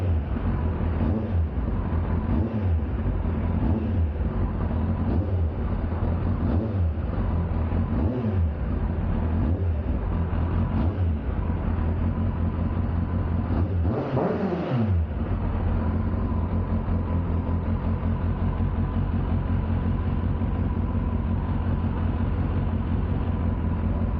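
Stock-exhaust 2021 Kawasaki ZX10R, engine running close by and blipped repeatedly with several sharp revs rising and falling, one bigger rev in the middle, then settling back to a steady idle, with no voices.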